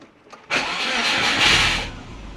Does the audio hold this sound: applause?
no